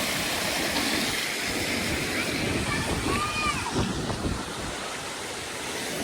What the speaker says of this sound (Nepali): यहाँ चाहिँ एउटा सानो झरना पनि रहेछ है।